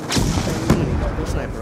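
A sniper rifle booms in Call of Duty, three loud, heavy shots spaced roughly half a second apart, with a voice talking alongside.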